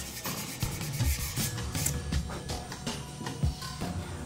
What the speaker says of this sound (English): Once it's dry, sand it with coarse grit paper, like 80 or 120.